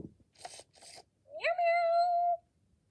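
A Winks My Sleepy Kitty robotic toy cat gives one drawn-out electronic meow, clear and close, after two short soft rustling bursts.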